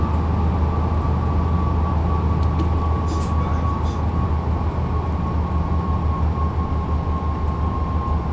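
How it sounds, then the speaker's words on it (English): A DB BR 101 electric locomotive hauling an Intercity train in a simulator on the Leipzig to Dresden route, a loud continuous rolling rumble with a steady whine and occasional faint clicks. "let's get the train to slow itself down"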